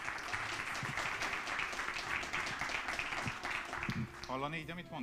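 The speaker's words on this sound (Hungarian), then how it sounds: "egy nagy tapsot kérek szépen" Audience applause at a public forum on urban development in North Pest, a steady dense clapping that fills the room, with a voice starting to speak over it near the end.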